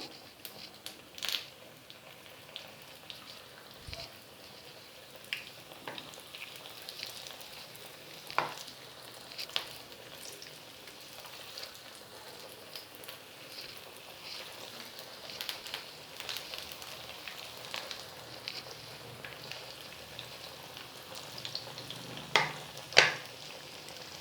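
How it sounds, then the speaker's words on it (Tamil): Sago and potato cutlets deep-fry in hot oil over medium heat, a soft continuous bubbling sizzle with scattered pops and clinks, close but quiet, no talking. "எண்ணெய் நல்லா சூடேறிடுச்சு. இப்போ ஒன்று ஒன்றா போட்டு பொரிச்சிடலாம்."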